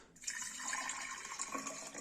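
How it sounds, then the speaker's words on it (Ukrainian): Half a litre of hot water is poured onto saffron, a soft continuous trickling and filling sound with bright splashy detail, close and quiet, no talking. "Наливаємо півлітра"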